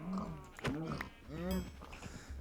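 Cows, including calves, in the Minecraft video game give two or three drawn-out moos in quick succession, moderately close and fairly quiet.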